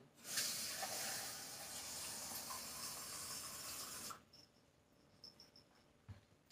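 Loud steady hissing sizzle of water poured into a hot pan, cutting off abruptly after about four seconds, leaving faint crackles and quiet background.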